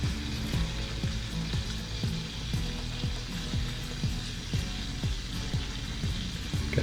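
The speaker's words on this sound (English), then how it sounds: "what we're going to do now is we're going to mix that in with that garlic butter sauce" Cheesesteak meat sizzles with garlic butter sauce on a Blackstone griddle, a continuous crackling hiss broken by a steady series of rhythmic spatula taps and scrapes; no voices.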